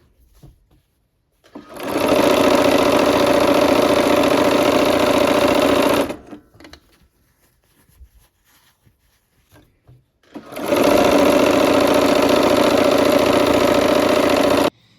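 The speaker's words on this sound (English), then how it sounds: "sew this last block on the row" Sewing machine stitching the last quilt block onto a row, running in two loud, steady bursts of about four seconds each, separated by a quiet pause with light handling clicks.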